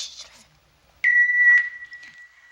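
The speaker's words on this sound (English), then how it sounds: "Please leave your message at the sound of the beep." An answering machine in a sitcom home sounds a single steady electronic beep, a clear pure tone lasting about a second and a half after a brief moment of quiet.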